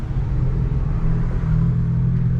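An Aston Martin sports car's engine rumbles continuously on a street, a deep, heavy, steady drone with a slight rise, loud and close, with no voices.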